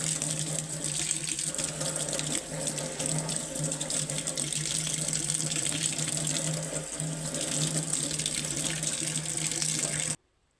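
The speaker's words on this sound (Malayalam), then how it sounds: "അപ്പോൾ ഒന്ന് നന്നായി കഴുകി എടുക്കുന്നുണ്ട്" Drumstick (moringa) leaves are rinsed under a running kitchen tap, a steady close gush of water splashing for about ten seconds before cutting off abruptly.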